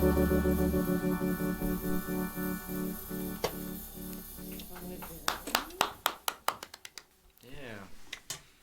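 A song fades out, then a few scattered hand claps ring out in a small basement setting, sharp and close, with a brief flurry before stopping.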